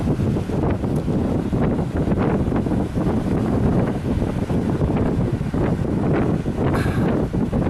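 Strong wind buffets the microphone in continuous gusts on the Sea of Azov, a loud roaring rush with a faint wash of water underneath, no voices.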